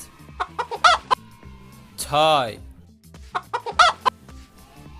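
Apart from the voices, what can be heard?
chickens clucking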